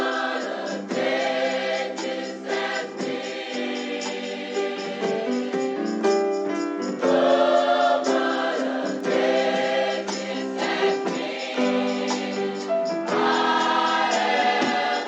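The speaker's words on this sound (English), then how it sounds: "I found this gospel sample called Oh What a Day." Gospel sample titled "Oh What a Day" plays alone at moderate volume, a full choir-style musical passage with sustained voices and shifting chords across the whole stretch.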